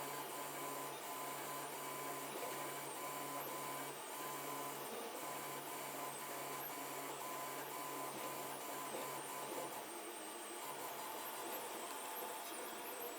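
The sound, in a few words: 3D printer printing, filament spool turning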